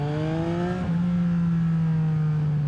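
A 2023 Yamaha XSR900 with an SC Project exhaust revs close by, its note dropping and then settling into a steady, loud drone with a strong low hum.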